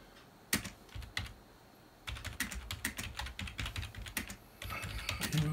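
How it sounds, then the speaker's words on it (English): Rapid bursts of keystrokes on a PC computer keyboard, close and fairly loud, with short pauses between runs of typing and no voices. "as I type on the PC keyboard"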